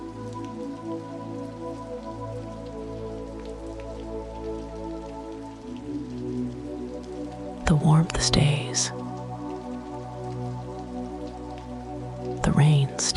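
Steady rain patters against window glass as a continuous soft wash, with a calm voice speaking softly over it and brief louder bursts of speech.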